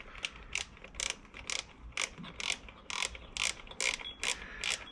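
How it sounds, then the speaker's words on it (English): A ratcheting wrench on a 10 mm fuel bowl screw of a 2021 Suzuki 6HP outboard motor gives quick, repeated bursts of close mechanical clicking in an uneven rhythm, with no talking. "Got a ratcheting wrench."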